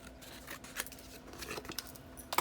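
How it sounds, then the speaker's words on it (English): Scissors snip paper at an angle while making a barn doors album: a few quiet, crisp cuts sound in an uneven rhythm, close and faint against a quiet room. "I'm just going to now cut at an angle on both sides"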